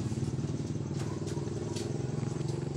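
A motorcycle engine on a tricycle idles steadily and loudly up close, a continuous low chugging rumble with faint clatter on top.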